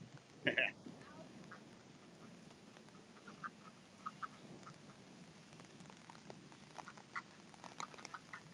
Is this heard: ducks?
yes